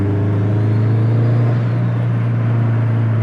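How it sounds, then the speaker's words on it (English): Turbocharged Subaru STI with a stock block making 457 wheel horsepower, its engine humming in a steady, loud, close rumble with a faint whirring turbo whistle above, no voices over it. "I could honestly just listen to that turbo all day long"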